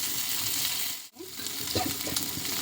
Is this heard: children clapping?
no